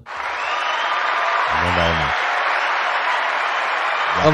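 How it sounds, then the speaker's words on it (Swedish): Warm applause from a small podcast audience for the guest, a roofer and bodyguard, steady and fairly loud throughout, with a brief voice breaking in near the middle and again at the end. "här får du en varm applåd som avslut"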